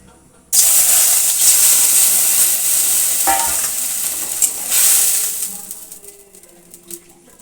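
Washed mango pieces hit hot, smoking oil with a sudden loud sizzle that bursts in, hisses strongly for several seconds, then slowly fades with a few pops and spatters.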